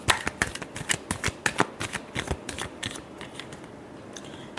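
Tarot cards riffle and flick in a run of quick, crisp shuffles, close and fairly loud, then trail off into a quieter rustle near the end.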